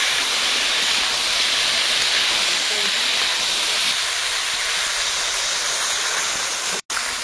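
Water poured into a pan of frying crab and egg curry with potato and pointed gourd sets off a loud, steady broadband hiss of steam that fills the whole stretch, cutting out abruptly just before the end.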